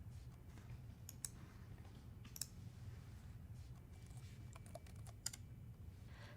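Quiet keystrokes on a computer keyboard as a command is typed into a PowerShell prompt, soft irregular clicks with a few sharper taps over a low steady hum, with no voices.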